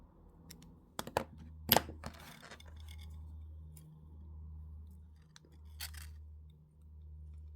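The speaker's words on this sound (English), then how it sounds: "the last wrap that you did, and we'll cut those wires" Wire cutters snip the ends of jewellery wire on a handmade wire wrap ring, giving a few sharp, close clicks over a steady low hum.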